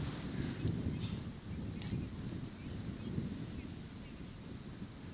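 Strong cyclone winds roar at Juhu Beach in Mumbai during Cyclone Tauktae, a steady rushing gust that buffets the microphone with low rumbling noise and no speech.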